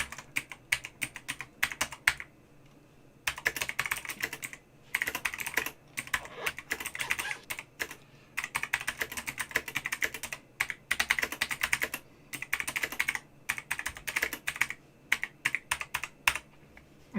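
Bursts of rapid typing on a computer keyboard during a tabletop role-playing session, close and clear, with pauses between the runs of keystrokes and no talking.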